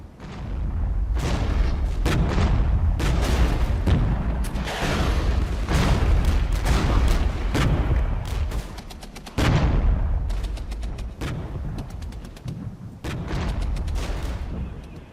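Tank gunfire in the modern armoured war game Regiments, a dense run of loud booming cannon shots and rattling bursts, many rapid reports layered with distant explosions over a sustained battle roar.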